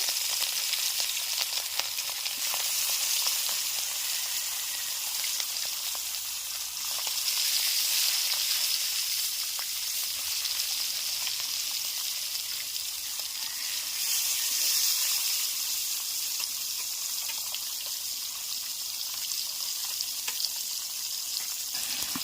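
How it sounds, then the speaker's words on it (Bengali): A two-kilogram fish fries in hot white oil in a very hot wok, giving a loud, steady, close sizzle that holds with little change for over twenty seconds, with no talking. "কড়াইতে দিয়ে দেব সাদা তেল মাছটা ভাজার জন্য"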